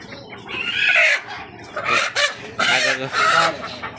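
Local chickens cluck and squawk close by in several short bursts, with a little background murmur.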